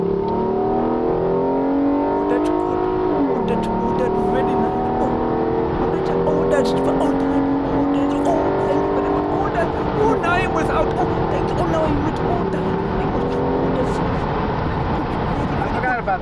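A Lincoln MKX engine revs loudly, its pitch climbing and falling repeatedly, with a voice speaking over the engine for much of the time.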